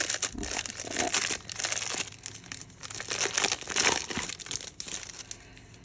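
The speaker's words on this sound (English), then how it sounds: "So this paper is really thin." Thin, opaque tissue-like typography mixed media paper crinkling and rustling in hands, close and continuous in uneven bursts, with no talk.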